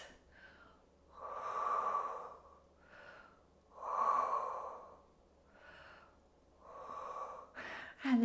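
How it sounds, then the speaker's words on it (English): Slow, deep breaths during a standing Pilates stretch, four long audible inhale-exhale cycles with airy, slightly nasal rushes, close and quiet with pauses between. "Take some deep breaths."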